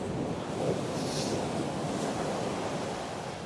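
Rough ocean surf at Myrtle Beach, South Carolina, makes a continuous loud wash of waves with wind buffeting the microphone. It is steady throughout, with no speech.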